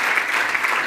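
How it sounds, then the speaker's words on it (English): A short stretch of dense, steady crowd applause for a company CEO's talk, heard close and fairly loud. "That should get a round of applause, that bit"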